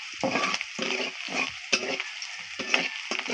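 Onions sizzle in hot oil in a pan, a steady crackling fry broken by repeated scraping stirs, close and moderate in volume with no voices.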